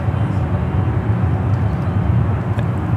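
A Japan Airlines Boeing 777 at San Francisco airport gives off a loud, steady broadband jet roar at close range, heading out toward the 28 runways.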